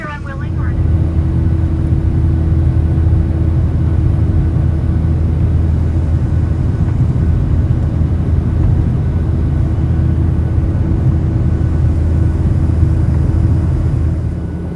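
Steady loud cabin rumble and engine roar of an airliner landing at Dulles Airport, a continuous low drone with a constant hum that holds for the whole span, close and enveloping.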